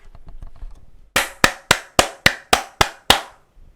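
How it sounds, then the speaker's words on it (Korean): A few soft taps give way to eight sharp, loud claps struck at an even, measured pace, each ringing briefly before the next, with no voices. "우리 삼성한테 박수 한번 칩시다"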